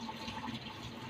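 Extra liquid is poured off during homemade raw vegan coconut yogurt preparation, a brief, close, steady watery pour with no voices.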